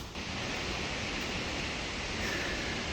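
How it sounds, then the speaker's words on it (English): Burney Falls waterfall roars as a dense, unbroken wash of falling water, loud and steady throughout, with no voices. "I'm going to let the waterfall do its thing"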